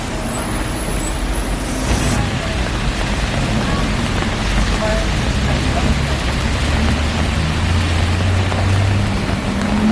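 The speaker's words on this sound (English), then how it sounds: "The rain is getting very hard," Heavy rain pours down on a Seoul street at rush hour, a steady loud hiss mixed with low rumbling traffic and passing buses throughout.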